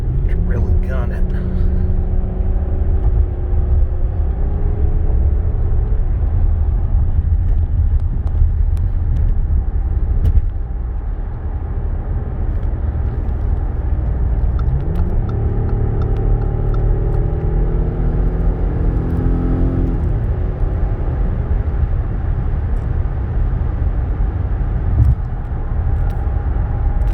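A 2006 Audi A6 Avant Quattro on the highway, a steady low engine and road rumble heard from inside the cabin, with engine tone rising in a couple of accelerating sweeps; someone talks over it.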